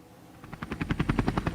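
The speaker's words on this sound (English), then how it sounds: "Miss Rabbit uses her helicopter to lift the pumpkin." Cartoon helicopter rotor chops in a fast, even rhythm, starting faint and quickly growing louder and closer over a short span.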